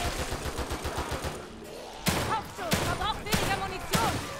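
Gunfire in the horror game The Evil Within 2: four loud, sharp shots ring out at roughly even intervals after a stretch of rapid, low rhythmic pulsing, with faint background activity between the shots.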